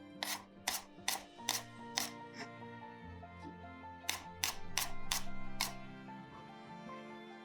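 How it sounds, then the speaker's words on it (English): A knife minces two spring garlic stalks on a cutting board, giving about a dozen crisp, rapid chops in quick bursts with short pauses, set against soft background music. "Now we'll mince 2 stalks of spring garlic."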